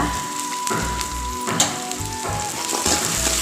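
Onion and garlic sizzle steadily in a hot pan as the base for a fish curry, a dense continuous hiss with a few soft bumps and no voices.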